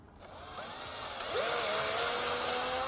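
A power tool cuts a thread into an intake manifold, a steady high whine that rises in pitch and loudness partway through and then holds, close by.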